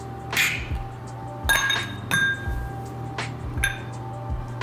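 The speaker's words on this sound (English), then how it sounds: "Ice cubes in." Ice cubes drop into a glass for a whiskey Old Fashioned, making four distinct bright clinks spaced about a second apart, close and clear against a quiet room.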